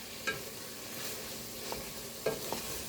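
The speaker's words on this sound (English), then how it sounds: "Let's blend this sausage and ground beef together." Sausage and ground beef, undrained with some fat left in, are stirred together in a pan, giving a few soft scraping strokes and light sizzling, quiet and close with no talk.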